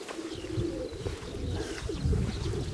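Racing pigeons at a loft in Ślesin, Poland, cooing as they come home from a race; low, repeated throaty coos, fairly close, with some faint chirps and rustling in the background.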